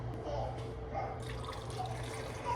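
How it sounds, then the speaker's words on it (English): Water poured into a blender holding a fruit smoothie, a steady trickling, filling sound kept up for the whole few seconds at moderate level, with no talking. "I'm gonna add water, because I don't like milk"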